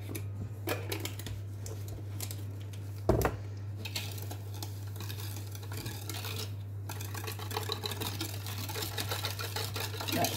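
Tupperware Speedy Chef hand-cranked mixer churning marble cake batter, a continuous low whirring hum with faint scraping and clicking, close and steady, with one brief knock partway through.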